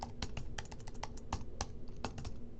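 Fingers typing a search on a computer keyboard, a quick irregular run of close, quiet key clicks with no talking.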